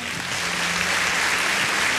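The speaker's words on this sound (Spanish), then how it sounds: "Damos un aplauso, Señor." A church congregation breaks into steady applause, a dense, even clapping that fills the room for a couple of seconds without pause or voices.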